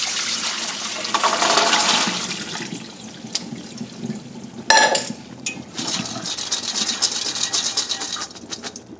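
White beans drained and rinsed in a kitchen sink, a rush of water pouring through a colander with splashing bursts and a brief clatter midway, fairly close and steady, with no talking.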